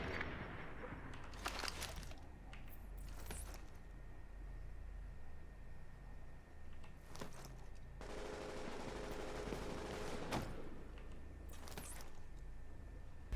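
Assault rifle gunfire in The Division video game during a Times Square fight, with several loud bursts of rapid automatic shots separated by pauses over a low background rumble.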